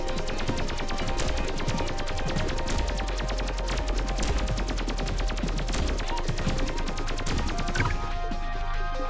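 Continuous rapid automatic weapon fire from the roguelite shooter Pathogenic, a dense unbroken stream of shots running loud and steady for most of the stretch before dropping away near the end.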